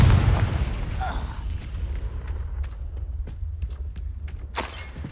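A Confringo blasting spell in the video game Hogwarts Legacy lands as a heavy boom at the start, then fades into a low rumble with a few scattered clicks and pops.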